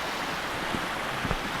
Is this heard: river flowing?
yes